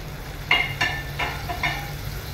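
Oily rinse water hits a hot cooking pan, producing a few brief sizzling bursts with short scraping clanks, each fading quickly into a low hiss.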